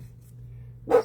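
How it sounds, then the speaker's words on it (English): A single short dog bark lands at the very end, fairly close and loud, after a near-silent stretch with a low background hum. "so my dogs may bark a little."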